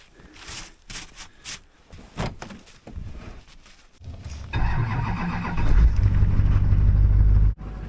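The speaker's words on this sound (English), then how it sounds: "Plow truck started, so that's a good start." A plow truck engine cranks and catches, then settles into a loud, steady idle after some earlier handling noises, close by and alone.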